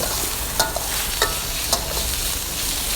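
Basil pork with chili, no tomato, stir-fries in a pan with a constant loud sizzle, as a spatula scrapes the pan in a few brief strokes.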